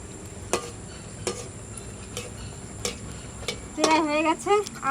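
Palm-fruit malpua frying slowly over low heat in a pan, a soft continuous sizzle with several sharp utensil clicks and knocks against the pan, and a brief tonal scrape near the end.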